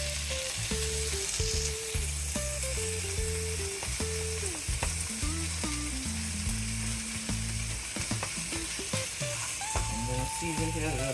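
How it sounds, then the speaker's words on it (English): Vegetables sear in a hot pan for a mashed potatoes and meatloaf meal, sizzling steadily and close, with scraping stirs and clinks over background music. "I'm gonna sear them down for maybe 5 minutes"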